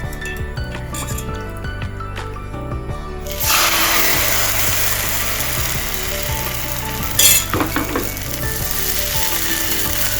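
Food fries in ghee in a home kitchen pan, a steady crackling sizzle that grows louder after a few seconds and carries brief clinks and scrapes of utensils.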